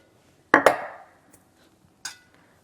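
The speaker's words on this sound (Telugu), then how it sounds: "బాగా కలుపుకోండి." Spoon scraping and clinking against a pan while rice is mixed with ghee and coriander, two close metallic clanks in quick succession, then a lone softer clink after a pause.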